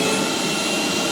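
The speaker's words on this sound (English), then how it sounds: "can an ordinary vacuum cleaner lift a 14-pound ball?" An ordinary vacuum cleaner runs while lifting a 14-pound ball, making a steady, loud, unbroken rushing roar with no pauses or talk.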